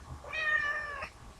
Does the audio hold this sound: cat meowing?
yes